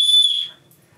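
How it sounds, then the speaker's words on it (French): Small emergency whistle from a first aid kit blown once, a loud, shrill steady tone lasting about half a second, then fading into quiet room noise. "Il y a le petit sifflet si jamais vous êtes perdu au milieu des"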